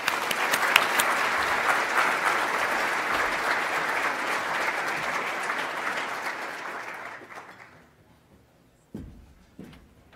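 Sustained audience applause greets Governor Poloz at a morning economic progress talk, a dense even clapping that holds for about seven seconds before tapering off, followed by two faint isolated knocks.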